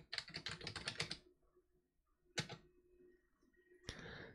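Typing on a computer keyboard while programming in SwiftForth: a quick run of rapid keystrokes, then a pause and two isolated key clicks, all fairly quiet and close.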